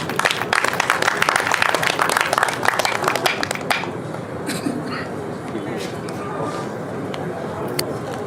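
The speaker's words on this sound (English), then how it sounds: "So can we clap in now?" Audience applause at an international academic conference, a dense burst of clapping that lasts about four seconds and then fades to room noise with a few stray claps and a voice speaking.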